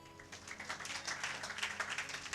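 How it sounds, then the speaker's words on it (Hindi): An audience claps during a church sermon, a steady patter of many hands at moderate distance, continuous and fairly even for a couple of seconds with no speech over it. "अरे ताली नहीं"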